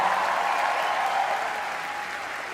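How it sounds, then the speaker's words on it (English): Sustained audience applause at a comedy roast, a dense wash of clapping hands that carries on steadily and eases off slightly toward the end, with no voices over it. "Round of applause for Ranveer Arjun."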